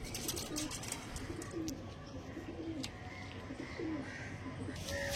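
Pigeons kept together coo steadily in low rolling calls, several birds overlapping, with occasional sharp flutters and faint background noise.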